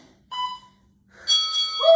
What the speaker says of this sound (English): You're hearing the timer go beep, beep, beep, and then ding.